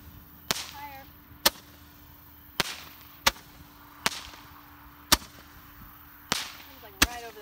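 Fireworks going off outdoors, seven sharp cracks spaced about a second apart, each followed by a faint fizzing tail, at moderate distance with no talking.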